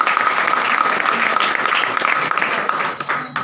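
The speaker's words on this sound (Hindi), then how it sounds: "चलिए उनके लिए एक बार जोरदार ताली" Audience applause at a student award ceremony for a mathematics institute, a dense, steady burst of clapping from a crowd close by, sustained for a few seconds with slight tapering at the end.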